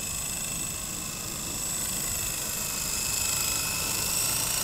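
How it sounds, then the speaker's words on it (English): A Blade CX4 remote-control helicopter flies outdoors, giving a steady high-pitched rotor whine and motor hiss that holds level and grows slightly louder near the end, with no voices. "It's a beautiful helicopter."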